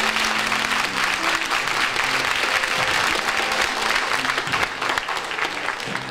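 A gospel concert audience gives a big round of applause for the performing groups, dense steady clapping from a large crowd that holds loud throughout.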